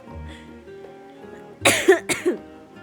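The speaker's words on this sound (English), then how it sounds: "I'm coughing a lot and I sound congested" Several harsh, congested coughs from a sick person burst out close by in a quick cluster, following a stretch of quiet low background sound.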